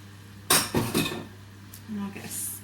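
Clatter and clinks of small sauce pots being pried open in a kitchen while cooking Thai basil pork, a few close, sharp handling knocks in short bursts with quieter rustling between.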